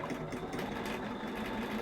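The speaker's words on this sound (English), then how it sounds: "one more stitch, take a back stitch" Sewing machine stitching a basket quilt block, a close, steady whirring hum of rapid needle strokes running continuously at an even pace, no talk.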